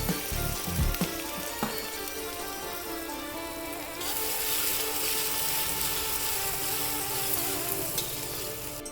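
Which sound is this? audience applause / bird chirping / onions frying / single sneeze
onions frying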